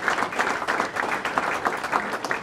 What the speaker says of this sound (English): A round of applause to Daniel and his staff